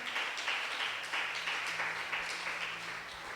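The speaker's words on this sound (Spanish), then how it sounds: "déle ese aplauso al Señor" A church congregation claps through the clip, a steady, moderately loud wash of applause with no talk over it.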